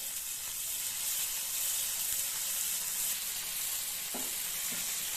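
Curry leaves hit hot oil in a paneer and capsicum stir fry, a loud, continuous close-up sizzle and hiss, with a couple of faint utensil taps near the end.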